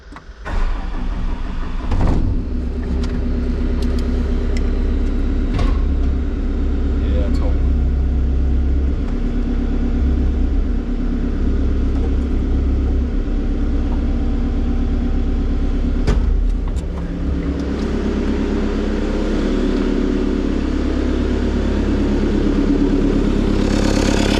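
Diesel engine of a Cat 299D compact track loader cranks and fires, then settles into a loud, steady near idle rumble that runs throughout, with a person talking briefly over it.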